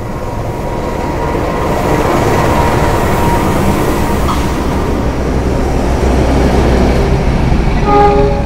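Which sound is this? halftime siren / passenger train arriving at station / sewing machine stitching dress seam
passenger train arriving at station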